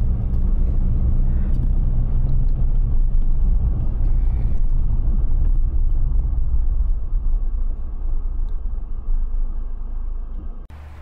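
A car rolls along a rural road near Tynong North Road in Victoria, Australia, a loud steady low rumble of engine and tyres from inside that eases slightly near the end.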